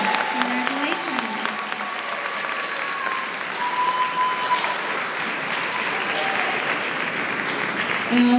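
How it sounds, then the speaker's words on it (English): A crowd at a Class of 2024 graduation event applauds steadily for several seconds, with scattered cheering and some voices mixed in. "let's give them a big round of applause"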